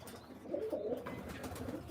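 Pigeons at a loft coo softly in a few short, low warbling phrases, faint and somewhat distant, with no voices present.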